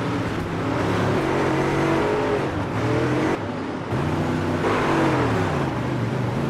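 Race cars from a racing video game roar past in a steady, loud engine drone with shifting revving tones, cars passing and lapped traffic mixing, one brief dip in the noise midway; no talking.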